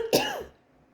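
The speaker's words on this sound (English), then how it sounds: "I'm doing a lot of coughing again" A single man coughs and clears his throat once, a short rough burst close up that trails off into a quiet room.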